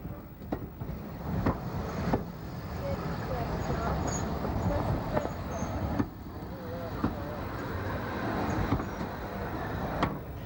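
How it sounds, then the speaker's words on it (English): A narrow gauge members' special train on the Talyllyn Railway passes through a small station, its rumble and wheel clanks rolling on steadily at moderate distance with sharp knocks from the wagons along the way. "The scheduled service crosses the members' special, which proceeds onwards through Dolgork Station."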